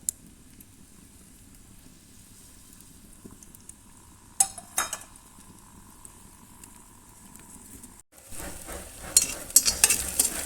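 Small shallots frying in a spoon and a half of Milma ghee, a soft, low sizzle in a pan with occasional scrapes of a spoon, growing louder and crackling more toward the end.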